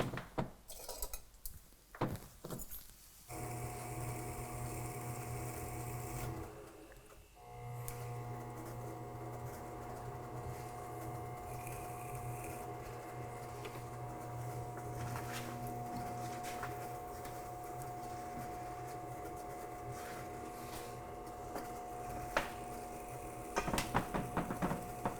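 A soft clay cookie jar being trimmed on a spinning pottery wheel, a steady motor hum with faint scraping from the trimming tool, a few clatters at the start and end.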